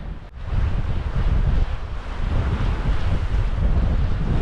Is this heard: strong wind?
yes